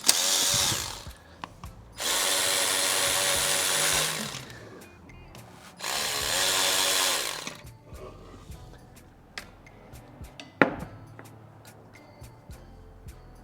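Two long, loud bursts of a power tool spinning out bolts on a 2018 Honda Accord 1.5L turbo engine, separated by quiet gaps with small clinks and a sharp metallic tap near the end.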